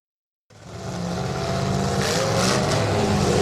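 Demolition derby cars at a firemen's festival in Greenwich rumble out of the arena, a steady loud engine roar rising in after a brief silence and holding without a break.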